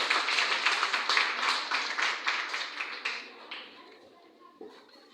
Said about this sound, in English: So let's put our hands together for our kid girl